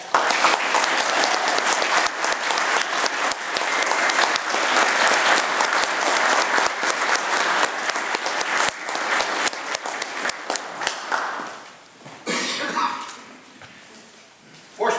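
Sustained, dense applause fills a Masonic lodge room at the 2011 officer installation of Fredericksburg Lodge No. 4 to congratulate the new Worshipful Master, with a few voices under it before it thins out near the end.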